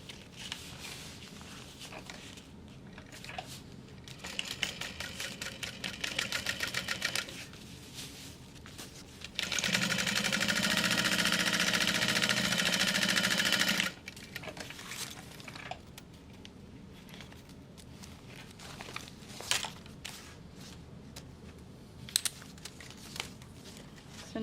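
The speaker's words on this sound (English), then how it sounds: "And then we're top stitching underneath" A sewing machine runs a burst of top stitching along a handbag seam, a steady, fast mechanical whir lasting a few seconds between quieter stretches of fabric handling and rustling.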